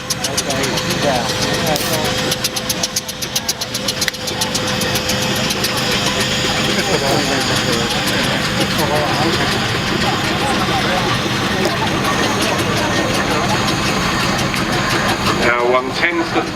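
A Wallace & Stevens Advance road roller engine runs steadily and loudly throughout, a close, continuous rhythmic chugging with mechanical knocking and vibration, unbroken for the whole stretch.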